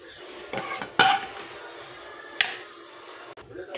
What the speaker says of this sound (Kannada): ನಾನು ಇದನ್ನು ಈಗ ಒಂದು ಪ್ಲೇಟ್ಗೆ ತೆಗೆದಿಟ್ಕೊಳ್ತಾ ಇದ್ದೀನಿ